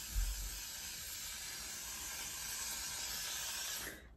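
Aerosol spray hissing steadily onto a wig cap, a continuous close broadband spray lasting about four seconds before cutting off, with no talking.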